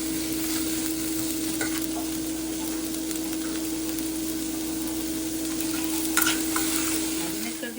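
Onion, tomato and garlic fry in a pan with a constant close hiss and occasional stirring scrapes, under a faint steady hum.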